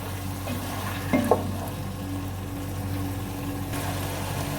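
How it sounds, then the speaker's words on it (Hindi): Frozen peas fry with chicken in a pan, giving a steady close sizzle with a brief stirring scrape partway through and a constant low background hum. "और मटर भी अच्छे तरीके से चिकन के साथ ही भून लेंगे।"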